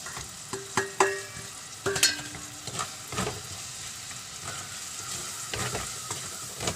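Chilli, coriander and turmeric powders with fennel are stirred and fried in a pan for a mackerel curry: a low, continuous sizzle broken by scraping spoon strokes and a few sharp clinks against the metal.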